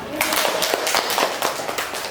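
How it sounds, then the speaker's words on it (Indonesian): A classroom group claps together in a fast, even rhythm, a run of sharp overlapping claps that continues steadily for a couple of seconds. "Tepuk tangan untuk kita semua"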